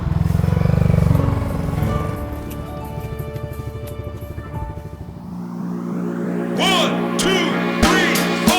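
A motorcycle idles close by, then revs and pulls away on a street outside, its engine note rising and shifting as it moves off, with clattering mechanical noise near the end.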